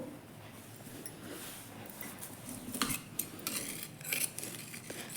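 Scissors snip through folded blouse lining fabric on a tailoring table, a run of soft, close crisp cuts and light metallic clicks, with a few sharper snips toward the end and no talking.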